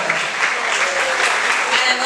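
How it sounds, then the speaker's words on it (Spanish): Brief, loud applause from an audience at a school celebration of the indigenous peoples of America, a dense continuous wash of clapping. "fuerte el aplauso"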